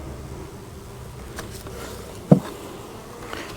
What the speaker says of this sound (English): Got a good bit of bees at the top.